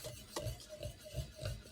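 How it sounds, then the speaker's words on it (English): Flour, baking powder, baking soda and salt are stirred together in a bowl, giving repeated close, soft scraping strokes in a steady rhythm with no voices. "Now mix the dry ingredients together until combined."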